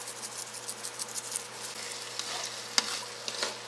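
Soft sizzle and stirring of eggs scrambling in a frying pan with a bit of buttery garlic and herb seasoning, quiet and continuous with light scraping taps, no voices.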